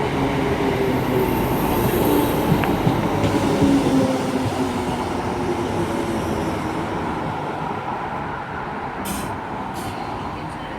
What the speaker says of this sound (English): departing now is going to be 319 376 to Liverpool Lime Street from Warrington Bank Quay with the 1326 service